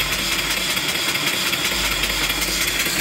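Live steam engine turning slowly at about 100 RPM while belted to an alternator spinning near 1,000 RPM, fed by a 20-inch boiler; a steady, close mechanical hum and rumble runs evenly with no voices.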